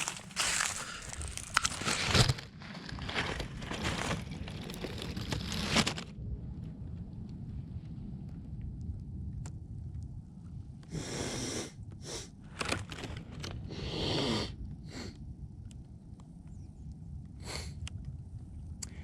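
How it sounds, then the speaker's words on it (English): A person blows their nose into a tissue, with a long, loud, rough burst of honking and snorting up close, then quieter sniffs and several shorter blows and rustles. "Hold on, I gotta blow my nose."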